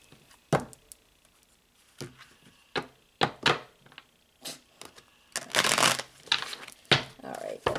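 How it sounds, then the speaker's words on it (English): A deck of tarot cards is shuffled in scattered bursts, with sharp riffles and taps followed by a longer fluttering run near the end. A person talks quietly in between. "one more shuffle"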